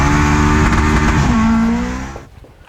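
A Nissan SR20 engine with a lumpy idle runs loud and close, a steady throbbing drone with uneven pulses that fades out near the end.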